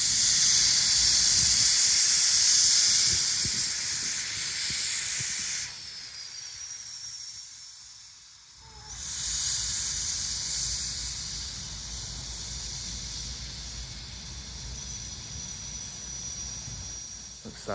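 A steam engine at work on the Stephenson Steam Railway hisses loudly and continuously, the hiss briefly dropping away before surging back over a low rumbling background.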